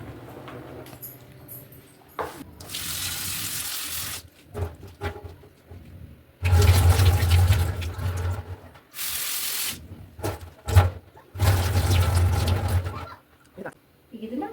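Cauliflower florets are washed under running water in several separate bursts of splashing and rushing flow, close by, with a person talking in between.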